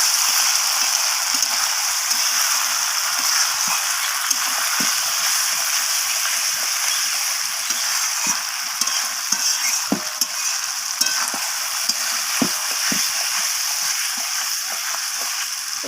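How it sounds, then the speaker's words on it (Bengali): Chicken gizzard and liver curry with fresh coriander stirred in a pan, a loud steady sizzle with frequent spatula scrapes and taps throughout. "ধনিয়া পাতাটা দেওয়ার পর আমি আবারও এর সাথে মিশিয়ে নিচ্ছি"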